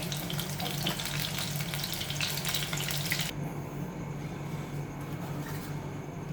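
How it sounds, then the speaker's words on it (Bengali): Potatoes frying in oil until lightly reddened, a dense bright sizzle for the first few seconds that then drops to a quieter, steady crackle and hiss. "ভেজে নিচ্ছি"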